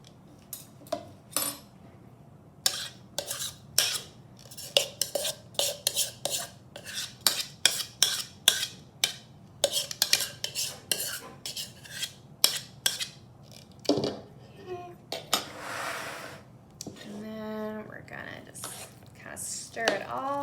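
A utensil stirring an onion and lime juice mixture into guacamole in a bowl, with repeated sharp scraping clicks and taps in uneven bursts, close and fairly quiet, followed by softer squishing toward the end.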